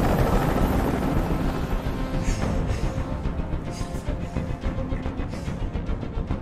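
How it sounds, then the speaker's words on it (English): Helicopter hovering overhead in the video game Detroit: Become Human, a steady loud rotor chop with rhythmic blade pulses and dense engine noise, alone without speech. "I can't stand that noise anymore. Tell that helicopter to get out of here."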